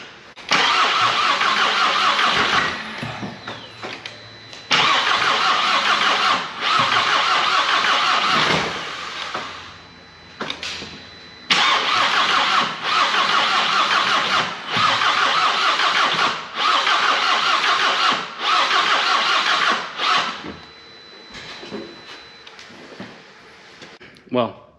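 A 2008 Volkswagen GTI undergoing engine diagnosis cranks over and over in long, loud bursts of starter whirring, separated by short pauses, and never catches or settles into an idle.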